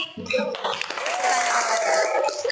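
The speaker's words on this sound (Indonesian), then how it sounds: "beri aplaus untuk kita semua hari ini" A classroom of students applauds at the end of a lesson, a busy patter of clapping mixed with voices and chatter.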